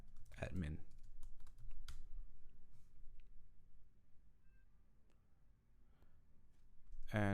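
Keys clatter on a computer keyboard as a command is entered, quick soft clicks and taps close by in a quiet room, with a few louder strikes at the start and end.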